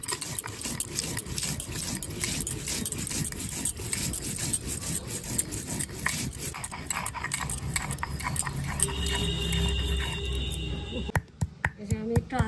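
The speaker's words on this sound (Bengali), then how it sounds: "এই যে আমি শুকনো লঙ্কা, কাঁচা লঙ্কা, জিরে একসঙ্গে বেটে নিচ্ছি" Dried red chillies, green chillies and cumin ground together into a paste give a steady run of close, rhythmic rubbing and rasping strokes, with a brief clatter near the end.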